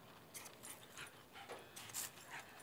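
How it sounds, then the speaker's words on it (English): A dog at a ranch whimpers and yips while running during exercise, faint, distant-sounding whines and pants rising in short bursts, with no one talking. "This is how we exercise our dogs at the ranch."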